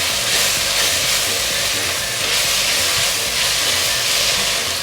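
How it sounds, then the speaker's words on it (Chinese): King oyster mushrooms stir-fried hard in a hot wok, three-cup style with basil, giving a loud, continuous steamy hiss and sizzle that holds steady throughout with no voices. "這就是熱炒店快炒的聲音，炒出來就會有鍋氣味"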